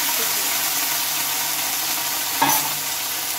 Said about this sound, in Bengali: ওই তেলে বেশ খানিকটা দিয়ে নেব কালো জিরে।